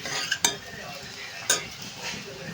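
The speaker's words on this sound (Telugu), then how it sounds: "ఇంకా కొంచెం ఫ్రై అవ్వాలండి." Andhra-style egg bhurji sizzling in a pan, with a spatula scraping and stirring in a few sharp strokes over a steady close fry.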